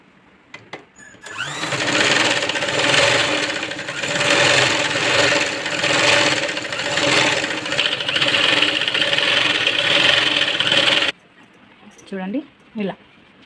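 A sewing machine runs steadily, double-stitching a seam on a princess cut jacket, loud and continuous for about nine seconds before stopping, with brief talk before and after.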